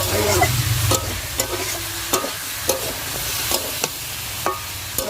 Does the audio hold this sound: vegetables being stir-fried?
yes